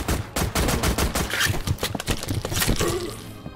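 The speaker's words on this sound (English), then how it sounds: "good thing I still got a pistol" Rapid pistol gunfire in a Minecraft-style Call of Duty zombies video game: a fast burst of many close, loud shots fired in quick succession, with no speech.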